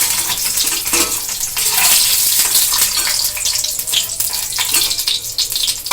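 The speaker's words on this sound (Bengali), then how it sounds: "সারা ডিমটা হালকা হালকা করে ভেজে নেব" Eggs sizzle and spatter in hot oil in a pan, a dense, steady crackling hiss that runs continuously at close range for several seconds.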